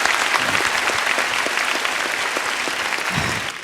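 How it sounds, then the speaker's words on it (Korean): A studio audience at a televised knowledge-sharing lecture concert claps steadily for a professor, with dense, sustained applause and no voices that trails off slightly at the very end. "박수 한번 부탁드립니다."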